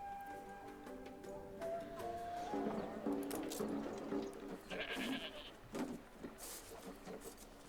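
Goats in the video game Anno 1800 bleat in a wavering, sing-song run over soft music, with several short cries overlapping at moderate volume.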